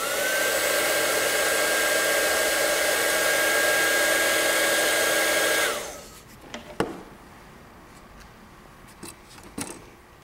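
A heat gun blows loudly and steadily for several seconds, shrinking heat-shrink tubing over a wire connection, then cuts off, leaving quiet handling clicks and taps.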